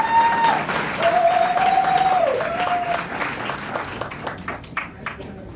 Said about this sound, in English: Give Clerk Wells another round of applause.